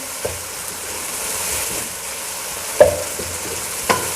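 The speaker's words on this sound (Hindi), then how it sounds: "कलेजी हमारी हो चुकी है, ऑयल इसने ये देखें छोड़ दी है, बहुत अच्छी तरह ये फ्राई हो गई है।" Beef liver frying in oil in a pan, a steady close hiss and sizzle with a few sharper clacks as it is stirred, no voices.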